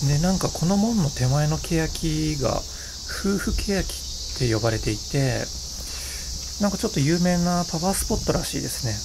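Summer cicadas at a large, wooded Shinto shrine in Asagaya, Tokyo, buzzing as a continuous high drone beneath someone talking throughout.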